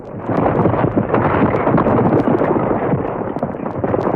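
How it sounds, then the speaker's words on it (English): A massive, continuous roaring rumble of a volcanic eruption blowing off a mountaintop, loud and sustained with crackling bursts throughout. "with a violent explosion, the top of the mountain blew off"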